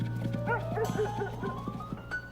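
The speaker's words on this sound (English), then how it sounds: "dog barking. Woof woof." A dog barks in a quick run of repeated, evenly spaced yaps, fairly close and clear over a steady low background hum.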